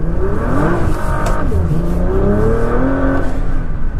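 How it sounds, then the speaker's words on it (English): Nissan GT-R power sliding into a corner, its engine droning loud and steady with shifting pitch and a faint tire whir, close and continuous with no talking. "I figured, why not go for a little power slide as we enter this corner"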